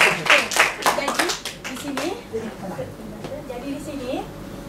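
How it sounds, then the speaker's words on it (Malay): A short burst of clapping from a small group of students near at hand in a classroom, then a speaking voice continues after the claps die away. "Mari tepukan sikit."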